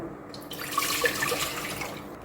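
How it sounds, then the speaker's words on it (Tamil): Water poured from a half-litre vessel into a pressure cooker for pearl millet rice, a short splashing gush lasting about two seconds, close and moderately quiet. "அரை லிட்ரு செம்பில் நாலு செம்பு தண்ணி ஊற்றிக்கிறேன்"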